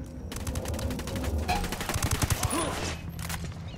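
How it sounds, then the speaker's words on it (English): Rapid automatic gunfire and bursts of shots from Ghost Recon Wildlands during a resort assault, loud and sustained, with a dense clattering run of shots in the middle and faint voices underneath. "I'm shooting these fuckers."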